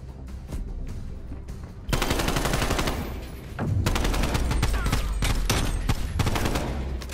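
Sustained automatic gunfire and rapid bursts of shots in Call of Duty: Black Ops Cold War Gunfight mode, loud and continuous, starting sparse then building into dense overlapping fire with explosive impacts.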